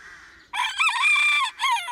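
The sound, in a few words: rooster crowing at an animal sanctuary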